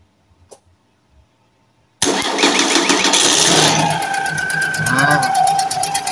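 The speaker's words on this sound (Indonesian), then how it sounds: "Sekarang kita starter." A VW engine cranks on its starter motor and fires up after two seconds of near silence, then runs loudly and steadily close by, with a faint voice at the very start.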